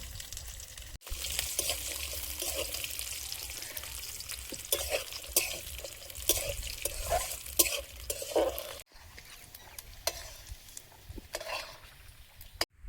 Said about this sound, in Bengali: ওই ওর উপরে এবার কাজু বাদাম আর কিশমিশটা দিয়ে একটু ভেজে তুলে নেব।